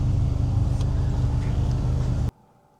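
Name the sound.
Mini R53 Cooper S engine and exhaust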